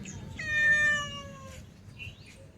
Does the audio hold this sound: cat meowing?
yes